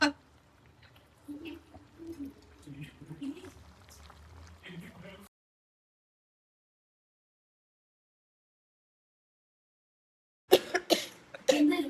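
Several short coughs burst out near the end after a long silence; earlier, people talk quietly over soft bubbling.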